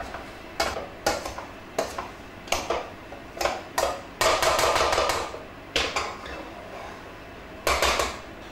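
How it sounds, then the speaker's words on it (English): A potato masher pounds cooked potatoes in a pot, a steady series of clanking metallic knocks roughly once a second, with a quicker cluster midway, close and moderately loud. "Our trusty potato masher. And we're going to give the potatoes a really good mash in the pot."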